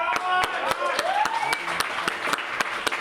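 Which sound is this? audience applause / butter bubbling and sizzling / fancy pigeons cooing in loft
audience applause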